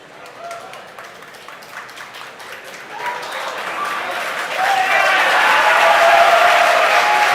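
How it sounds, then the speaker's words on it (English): A large crowd cheers and applauds at a SpaceX Falcon Heavy launch. It swells from scattered clapping into sustained, loud roaring cheers, with whistles and shouts and a voice speaking over it. "Hear the crowd cheer behind me."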